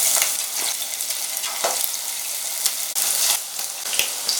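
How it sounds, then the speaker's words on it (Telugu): Marinated chicken pieces frying in hot oil on a stove, a loud continuous sizzle and crackle with occasional sharper spits and pops, close up and without any voices. "ఇప్పుడు స్టవ్ ఆన్ చేసి సరిపడ్డంత ఆయిల్ వేసుకుని ఇప్పుడు ఈ చికెన్ ముక్కల్ని వేసేసుకోండి ఆయిల్లో ఒకటి ఒకటి"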